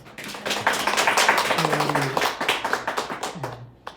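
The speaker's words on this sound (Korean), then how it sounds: "환영의 박수 해주시겠어요?" A church congregation claps to welcome a visiting guest, close and fairly loud with many hands striking in a quick, uneven patter that fades out at the end, while voices murmur and speak underneath.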